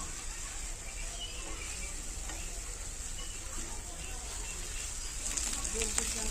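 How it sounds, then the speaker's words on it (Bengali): Fried pointed gourd and potato pieces sizzling with spices in a pan, a steady, even hiss with faint stirring scrapes throughout. "ভেজে রাখা পটল আর আলুগুলোকে এবারে এগুলো দিয়ে আমরা একটু কিছুক্ষণ এইভাবে ভেজে নেব"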